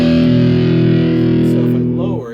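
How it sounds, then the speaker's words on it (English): Electric guitar played through an amp with overdrive distortion, a loud, gritty sustained chord ringing out steadily before it begins to fade near the end. "This is how much overdrive or distortion you'll get."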